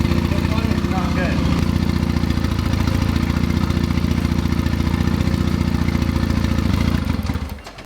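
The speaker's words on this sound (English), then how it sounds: "I've never seen something run on 2 cylinders like that before" Boosted Honda Civic with a K20 engine running roughly on only two cylinders, a loud, uneven idling rumble with a lumpy, clattering pulse that holds steady for about seven seconds before cutting off near the end.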